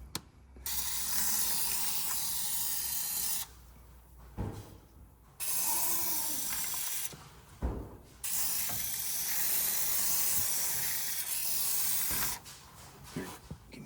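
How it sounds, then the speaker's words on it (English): Insecticide hisses from a sprayer onto a carpenter ant nest in a garage, in three long loud bursts separated by short pauses with faint clicks between them. "I'm gonna spray the whole area."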